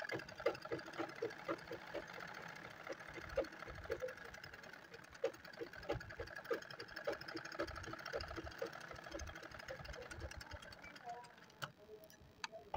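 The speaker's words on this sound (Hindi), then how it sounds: "अब इसको स्टिच कर देंगे। तो यहाँ से हम इसको स्टिच करना स्टार्ट करेंगे" A sewing machine stitches blouse fabric for a round-cut belt blouse design, producing a steady, fast, even ticking run of stitches that stays fairly faint, with a low mechanical hum beneath and a brief slowdown near the end.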